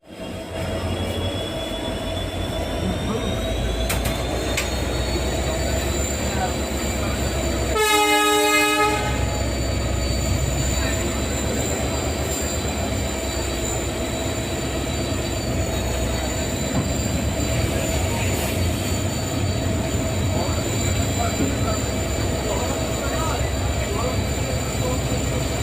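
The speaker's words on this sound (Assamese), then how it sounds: "এৰিছে আৰু আমাৰ ট্ৰেইন লাহে ধীৰে।" Passenger train pulling out and rolling slowly, a constant close rumble of wheels and carriage with a long whining squeal from the wheels and a faint high-pitched horn in the background.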